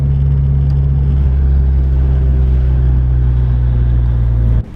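A loud, steady engine hum with a deep low rumble, a car cruising along a road, cuts off abruptly at the very end.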